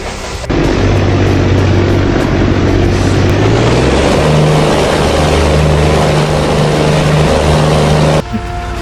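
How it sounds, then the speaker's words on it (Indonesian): Truck exhaust in the ES Truck Simulator ID video game, a loud steady engine drone that starts abruptly, rises in pitch as revs climb, holds a sustained rumble and cuts off sharply near the end. "Di bagian sound knalpotnya ES Truck jujur Mimin kurang suka ya, soalnya kurang bertenaga cuy."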